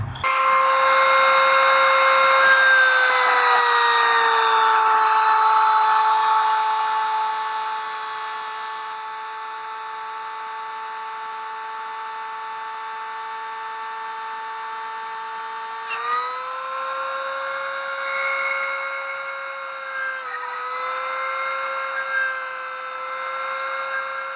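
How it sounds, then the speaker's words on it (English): Dremel rotary tool cutting a notch into a kayak paddle, a loud high-pitched whine that holds steady for several seconds, then drops in pitch and wavers as the bit bites into the material. "So I'm going to grab my Dremel tool and I am going to start cutting."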